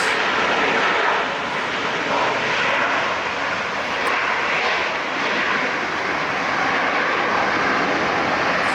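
An ANA Cargo Airbus A330 arrives at LAX, making a loud, broad roar of jet engines that swells and eases slightly across the stretch and sounds fairly close, with no voices.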